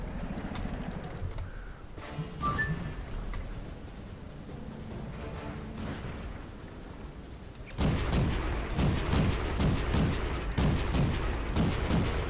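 Tank guns in World of Tanks fire in a rapid, irregular barrage, loud sharp blasts stacking up in the second half after a quieter stretch of distant rumbling and engine noise.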